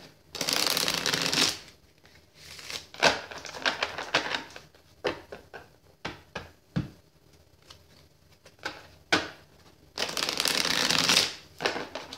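Cards are shuffled up close: long riffling bursts at the start and end, with scattered taps and snaps of cards in between.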